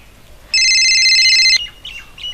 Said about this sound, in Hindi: फोन आ गया, फोन।